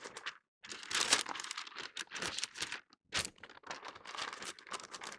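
Wrap is folded and tucked tightly around a prime grade brisket for an offset smoker, giving loud close crinkling and crumpling in repeated bursts with short silent gaps.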